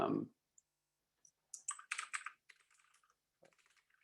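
Quiet bursts of keystrokes on a computer keyboard, irregular and close, come in clusters with pauses between them after a brief bit of voice at the start.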